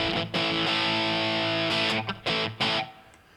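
Crunchy, distorted Stratocaster electric guitar on the bridge pickup playing sustained chords with a bit of echo, with short pauses between strums.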